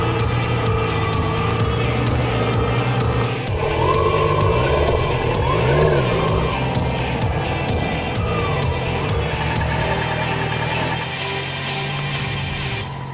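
A large motorcycle rides around a practice yard for a Module 1 motorcycle test, its engine loud and close for the whole stretch, revs rising and falling as it manoeuvres.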